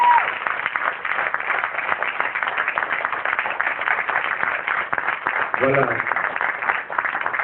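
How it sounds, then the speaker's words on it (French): Audience applause at a Burkinabe storytelling evening, dense steady clapping throughout with cheering, and a voice speaking briefly over it near the end. "Je pense que ça mérite encore plus d'applaudissements,"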